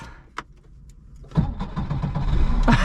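A 1994 Škoda Favorit 1.3i fuel-injected engine is cranked with a short click first, then catches after about a second and settles into a rough, throbbing idle that grows louder, close to the microphone with no speech.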